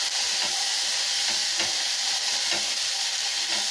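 Boiled white peas being stirred in a pan with a steady, close hiss of frying and soft scraping strokes, no talking over it.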